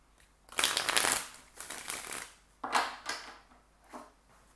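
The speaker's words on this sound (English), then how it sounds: "One last shuffle." Tarot cards riffle and shuffle in several bursts, a long rustling run followed by shorter flutters, close and fairly quiet.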